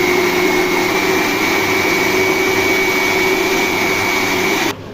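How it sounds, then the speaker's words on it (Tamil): A kitchen mixer grinder whirs loudly and continuously while grinding tomato chutney, a steady motor drone that cuts off abruptly near the end. "மிக்சியில் போட்டு அரைக்கிறேன்"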